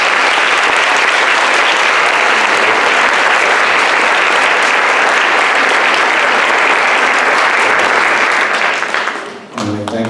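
A room at a school board meeting breaks into sustained, loud applause for an outstanding teacher, a thick continuous roar of many hands that holds steady, then fades out near the end.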